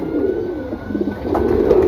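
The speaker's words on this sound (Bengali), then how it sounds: "আমার কবুতরগুলা এখানে থাইকা শান্তি পাইতেছে না" A flock of domestic pigeons kept in a cramped home loft coos nearby in low, throaty, repeated rolls, filling the short stretch with no talk.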